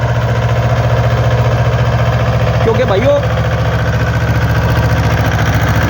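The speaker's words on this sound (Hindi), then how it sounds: "अपने छोटे ट्रैक्टर से ही रूटर से जुताई कर दी भाइयों हमने।" A small tractor runs a rotavator while tilling a ratoon sugarcane field, its engine idling in a loud, steady, low throb throughout, with someone talking over it.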